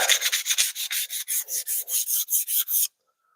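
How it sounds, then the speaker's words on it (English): Hand sanding of a wooden piece in a bushcraft workshop: about fifteen quick, even back-and-forth rasping strokes, close and fairly loud, stopping abruptly into silence. "I only come on here quickly just to finish sanding this"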